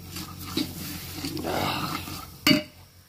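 Curry masala roasting in a pot over a wood-fired stove: a steady low sizzle swells midway, broken by two sharp metallic clinks of a utensil against the pot, one of them loud near the end.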